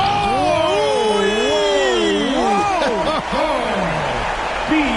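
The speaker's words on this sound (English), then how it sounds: "Boy, listen to this Chicago crowd erupting." A Chicago basketball arena crowd roars and whoops after a Michael Jordan dunk, a loud, sustained eruption of overlapping cheers and shrill voices filling the space.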